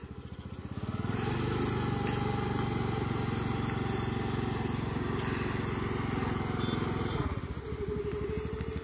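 A scooter engine starts and runs steadily at a close, loud idle for several seconds, then its pitch drops and it sputters briefly near the end while people talk nearby.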